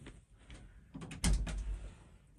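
A household door opens to let a dog in from outside, giving a soft latch click and a brief thump and rattle, faint and close in a quiet room.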